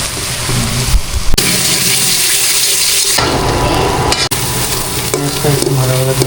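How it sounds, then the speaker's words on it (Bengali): Fish fries in a pan with a loud, steady sizzle and hiss, broken by short bursts of stirring and scraping, while running water is heard in between. "একটু ভাজা ভাজা করে দিচ্ছে"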